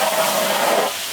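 Mustard seeds, cumin and garlic sizzle steadily in hot oil, a loud, continuous frying hiss heard on its own while cooking a dried fish gravy outdoors in a village.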